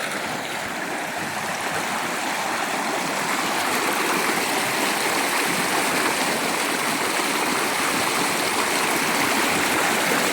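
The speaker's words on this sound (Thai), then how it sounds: "ห้วยน้ำ" Near the Huai Lam Phan dam, a stream flows with a constant, loud rush of water for the whole stretch, without pauses and with no voices.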